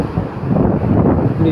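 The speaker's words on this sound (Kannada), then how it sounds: "ಇಷ್ಟೊಂದು ಸೌಂಡ್ ಬರ್ತಾ ಇದೆ. ಅಲೆಗಳೆಲ್ಲ ಹೆಂಗೆ ಬರ್ತಾವೆ ಅಂತ ನೋಡಿ" Loud, close wind rush blends with crashing ocean waves at Someshwar Beach in Mangalore, a dense, continuous roar that fills the brief moment without letting up.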